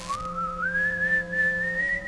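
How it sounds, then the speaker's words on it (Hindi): A strange, eerie whistle-like tone called space music, said to come from NASA moon tapes, rises slowly and then holds a sustained wavering pitch, loud and alone over a low steady hum. "एक अजीब सी सीटी जैसी आवाज, जिसे उन्होंने स्पेस म्यूजिक का नाम दिया"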